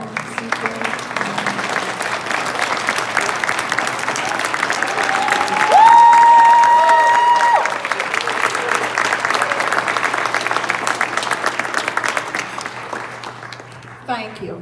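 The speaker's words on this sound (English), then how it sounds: "I would like all of the teachers to stand and for us to give them a round of applause" Audience applause for teachers who stand at a formal remarks event, a sustained wash of clapping from a large crowd that swells in the middle and continues steadily to the end, with a brief tone heard partway through.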